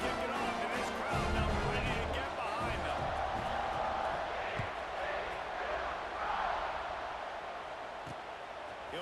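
Stadium crowd in EA Sports College Football 26 roaring steadily before a kickoff, a dense sustained cheer with whoops running under a commentator's voice.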